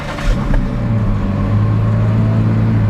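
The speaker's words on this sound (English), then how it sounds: "Let me fire it up one more time." A Ford GT engine fires and settles into a loud, steady idle close by, with a rev-like swell early on and a deep, continuous drone after it, and nobody talking.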